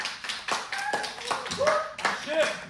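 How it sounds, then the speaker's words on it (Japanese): Audience at a live performance clapping in a steady rhythm, with sharp, evenly spaced claps alongside voices. "拍手やめ。"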